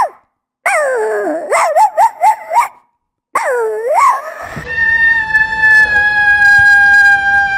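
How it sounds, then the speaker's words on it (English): A dog gives a string of short, high yips and barks in quick bursts, then a sustained whining tone with a low rumble underneath. "Jake, do your bark."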